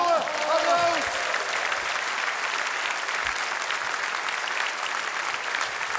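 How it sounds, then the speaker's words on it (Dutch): A studio audience applauds the fire brigade, steady close clapping that fills the whole stretch, with a brief voice at the very start. "die verdienen gewoon een extra applaus"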